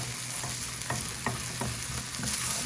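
Diced potatoes fry in a pan with a continuous loud sizzle, while a utensil scrapes and stirs them in repeated strokes about every half second.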